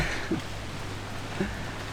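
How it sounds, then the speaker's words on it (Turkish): Monsoon rain falls on a garden as a steady, soft, even hiss with a couple of faint drip-like taps, with no voices. "Tam uzun zamandır muson yağmurlarından kurtulduk demiştim. Gene geldi."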